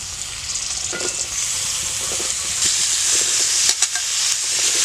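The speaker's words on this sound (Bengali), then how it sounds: "ফুলকপিগুলো হালকাভাবে ভাজা হয়ে গেছে এবার আমি আলুগুলো দিয়ে দিচ্ছি" Potato pieces go into a pan of lightly fried cauliflower with salt, and a continuous near sizzle swells louder toward the end, broken by a few sharp stirring scrapes and clatters.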